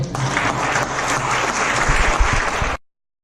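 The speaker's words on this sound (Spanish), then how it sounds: "Un aplauso para ellos." Audience applause for participants at a TED-Ed club event, a steady wash of many hands clapping close and loud for about three seconds, then stopping abruptly.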